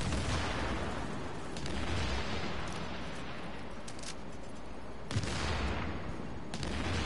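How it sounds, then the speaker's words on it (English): Grenade blasts and heavy gunfire in the video game Tom Clancy's The Division, a dense, continuous roar of explosions and shooting with a few sharper bursts, loud and close, no voices. "Oh my god, how many grenades are they gonna throw?"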